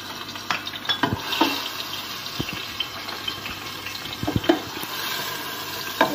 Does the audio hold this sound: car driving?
no